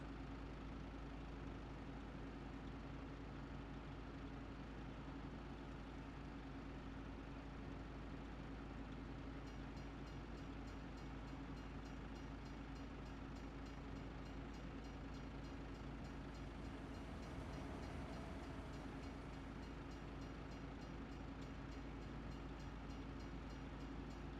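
A train in the video game Farming Simulator 25, a continuous low rumble and steady rolling drone that holds evenly throughout without clear beats or horn.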